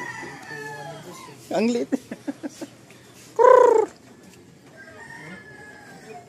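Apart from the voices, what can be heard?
Chinese chicken clucking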